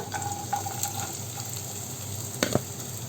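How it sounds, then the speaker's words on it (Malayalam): A soft, steady sizzle of ingredients frying in a pan while being stirred for an oats dinner dish with onion, with a few faint clinks of the utensil against the pan near the end. "ഇതിൻ്റെ പച്ചമണം മാറുന്നത് വരെ ഒന്ന് ഇളക്കി കൊടുക്കാം"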